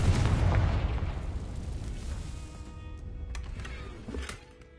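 A Confringo fire-spell blast in Hogwarts Legacy: one loud, close explosion right at the start that rumbles and slowly fades, followed by a smaller burst near the end.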